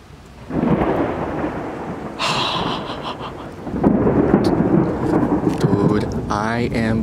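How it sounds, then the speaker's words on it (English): Thunder from a sudden line of lightning-filled thunderstorms, booming and rolling loudly and close over steady rain, with a sharp crack partway through and a second swelling rumble toward the end. "So we got a surprise line of thunderstorms that just developed."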